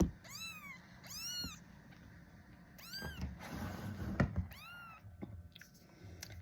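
An angry foster cat lets out a series of loud, drawn-out meows close by, about five distinct cries with short pauses between them, over faint background rustling and no speech.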